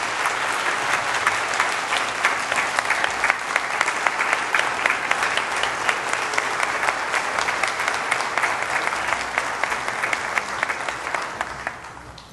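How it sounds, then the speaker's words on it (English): An audience at a nursing awards event claps for the nominees, a sustained burst of dense applause that holds steady before tapering off at the end. "Let's give a round of applause for our nominees."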